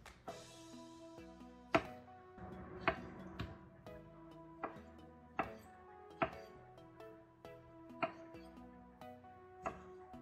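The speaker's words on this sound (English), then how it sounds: "As you can see, I'm dicing them with large cubes or chunks." A knife dicing large, juicy tomatoes into chunks, with sharp chops landing on a cutting board roughly once a second, close and clear, over a quiet background with faint music.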